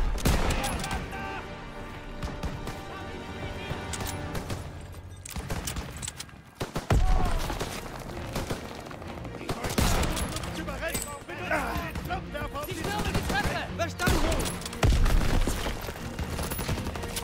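Gunfire from the World War 2 shooter Call of Duty: World War 2, with rapid bursts and repeated shots among loud battle effects, and game dialogue spoken over it.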